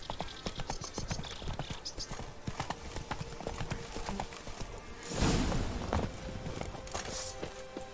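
Horse hooves clip-clop steadily at a trot in The Witcher 3, with creaking tack and faint mechanical ticks, plus a brief louder rustle partway through.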